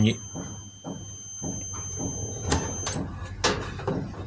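A Samsung CS21D500HT CRT television that will not power on gives off a thin, steady, high-pitched squeal from its high-voltage section. The whine holds constantly under someone talking close by.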